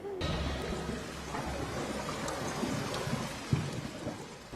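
Steady heavy rain pours down at night, a dense continuous hiss with low rumbling underneath, constant and close, with one brief sharper spatter near the end.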